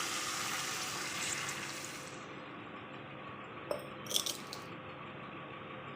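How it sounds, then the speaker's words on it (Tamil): Water pours into a pan of sautéed rava (semolina) for upma, a hissing, sizzling rush for the first two seconds, followed by quieter bubbling and a few faint clinks and splashes. "இப்போ இந்த 50 கிராம் ரவைக்கு இதில் வந்து அரை செம்பு தண்ணி ஊற்றினா கரெக்டாக இருக்கும்"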